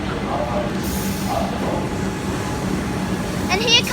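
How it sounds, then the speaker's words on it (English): A Comeng electric suburban train pulls into Caulfield station in Melbourne, a steady rumbling roll with a brief high squeal of brakes near the end, while a faint voice speaks over it on the platform. "Comeng train now arriving for a Flinders Street train"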